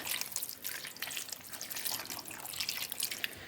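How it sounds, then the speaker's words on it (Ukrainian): Roughly 200 ml of water poured into a pan of Ukrainian-style buglama, a steady close splashing trickle with some dripping that runs for a few seconds without any talk. "Заливаємо буквально 200 мл водички"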